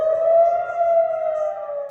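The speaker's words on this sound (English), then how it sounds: "The sky, usually quiet in the early morning, exploded with sirens" Air raid sirens wail in Israel in the early morning, a steady, sustained mechanical tone holding loud and unbroken throughout, with no voices.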